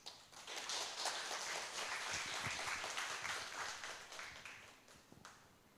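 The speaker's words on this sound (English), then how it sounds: "let's give them a warm round of applause" A workshop audience applauds steadily for several seconds, a soft mass of clapping heard at a distance that gradually fades out.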